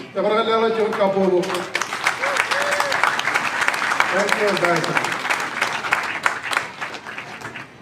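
A standing audience at a Jaluit Kamolol Day 2021 ceremony in the Marshall Islands breaks into sustained, loud applause of many hands clapping, after a brief spoken thanks at the start.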